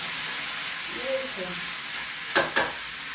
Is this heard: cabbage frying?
yes